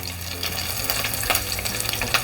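Green chillies, two of them cut, fry lightly in a pan of oil with a steady soft sizzle and a few brief stirring scrapes, close and moderately loud, with no talking.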